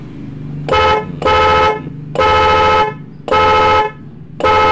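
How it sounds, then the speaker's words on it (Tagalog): An automatic dual car horn honks five times, loud and close, each blast held about half a second to a second over a low idling hum. "Tapos pindutin natin yung sa horn"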